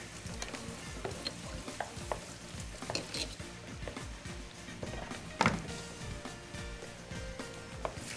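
Onion, pumpkin and potato pieces sautéing together in a pot for pumpkin soup, a soft sizzle under repeated utensil scrapes and light taps, fairly quiet and close, with one louder clatter partway.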